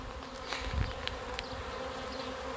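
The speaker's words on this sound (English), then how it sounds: "all the bees are flying around the entrance" A honey bee swarm buzzes as it flies around a hive entrance, a soft, even hum with a couple of brief nearer passes, fairly quiet overall.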